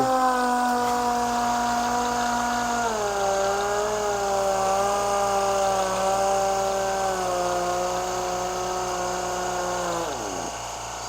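A power sander runs across BMW X5 paint during dry sanding with 2000 grit, giving a steady, loud, whining motor hum whose pitch dips midway and drops again just before it winds down.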